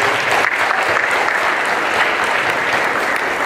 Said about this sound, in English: Kay one more round of applause for her.